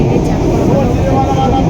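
A moving passenger train rumbles from the inside, a loud, steady broadband roar and rattle that continues without break, with voices faintly mixed in.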